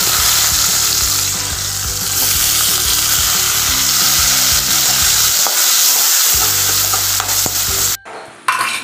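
Onions and tomatoes fry in a hot pan for a North Indian thali, with a loud, steady sizzle and repeated stirring scrapes, a brief near-silent pause midway, then the sizzling resumes before cutting off near the end.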